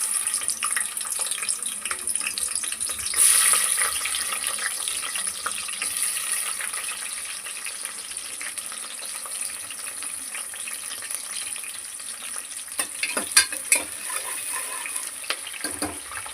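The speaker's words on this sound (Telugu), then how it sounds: "ఉల్లిగడ్డ గోల్డెన్ బ్రౌన్ వచ్చే వరకు వేయించుకుందాం" Onions frying in hot oil in a pressure cooker while mutton curry is made, giving a steady broadband sizzle throughout with a brief louder burst early on and a few scattered clicks near the end.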